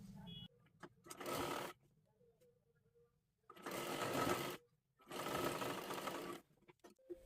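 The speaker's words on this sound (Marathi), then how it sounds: "इथे हे पहा इथे पूर्ण शिलाई करून घ्यायचं आहे" A sewing machine stitches a salwar seam in three bursts of rapid, even whirring, with short quiet pauses between runs.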